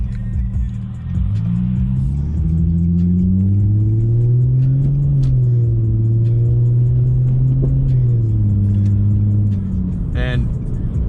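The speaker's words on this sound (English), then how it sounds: "up until about 100 miles an hour, with every single shift, this car just gets faster." A 2005 car accelerating hard through its gears, engine droning steadily with pitch climbing and dropping at each shift, close and loud inside the cabin.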